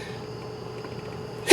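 A single sharp human sneeze bursts out loudly at the very end, following a stretch of low, steady room noise.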